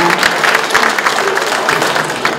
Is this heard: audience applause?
yes